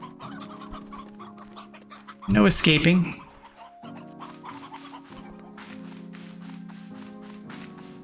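A game chicken clucks in repeated soft, close clucks across the clip, with one loud squawking burst partway through and a person talking over parts of it.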